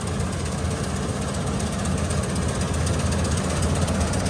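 Combine harvester engine running steadily during a grain harvest, a loud continuous low rumble with mechanical vibration and knocking texture, close and unbroken, no talk.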